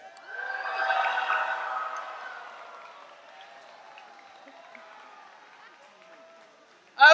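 A convocation crowd bursts into cheering and applause for Destiny Makers, loud at first and then fading into a long, thinning tail, with a sharp sound close by right at the end.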